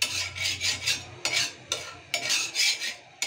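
A small amount of oil is spread around a pan for a flatbread, producing repeated close scraping strokes of a utensil across the metal with short pauses between them and no voices.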